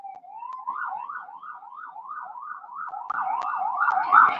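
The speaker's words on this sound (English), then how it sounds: "for the fourth siren today, I'm being trolled by all these damn ambulances and cop cars today" Ambulance and police car sirens passing in the distance, a rapid wailing yelp that grows louder toward the end, with no talk over it.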